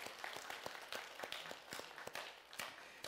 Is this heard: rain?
no